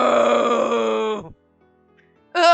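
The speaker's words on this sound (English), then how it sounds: "It's the last gasp of the doll, I guess." A doll's long drawn-out last gasp in the dark fantasy video game Ephemeral: Fantasy on Dark, a loud groaning moan that fades into near silence before a short, sharp tonal burst.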